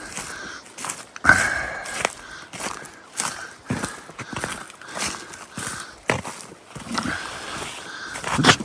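Footsteps crunch over frozen, icy ground on a winter alpine walking track as thawing trees begin to drip, irregular close steps with sharp crisp crunches and quieter shuffles between them, no talking.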